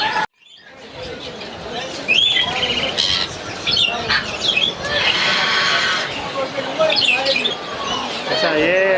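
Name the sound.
parrot squawking in exotic bird shop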